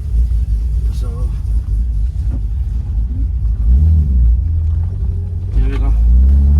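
A car engine rumbles low and steady throughout, loud and close, with a voice talking over it.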